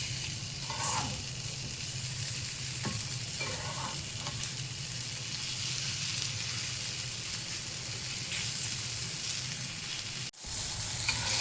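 A strawberry pancake sizzles in a pan just after being flipped, a continuous close frying hiss with a few soft clinks and a brief break near the end.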